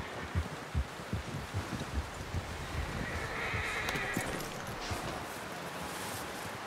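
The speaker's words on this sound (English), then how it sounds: "Someone help John down off this horse" A horse whinnies over a steady thudding of hooves in the video game Red Dead Redemption 2, fairly faint and without voices.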